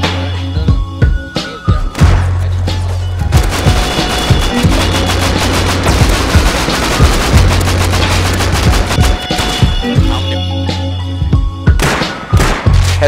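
Gunfire in the survival game Rust: loud, near bursts of automatic rifle shots, sparse single cracks at first, then a dense sustained volley through the middle, tapering back to scattered shots and thuds, with no speech.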